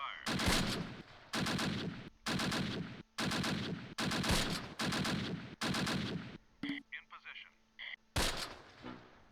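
Bursts of heavy gunfire in the Close Combat wartime strategy game, seven dense rattling volleys in rapid succession, loud and close, with a brief break holding clicks and faint game sounds before a final burst.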